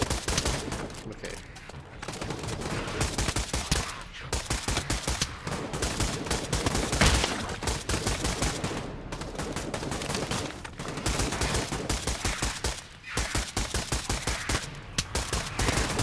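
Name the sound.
gunfire from the video game Pavlov zombies mode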